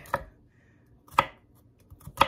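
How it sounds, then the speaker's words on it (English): Three sharp knife chops through garlic on a cutting board in a home kitchen, spaced about a second apart, close and distinct with quiet pauses between. "I'm just going to cut up this garlic"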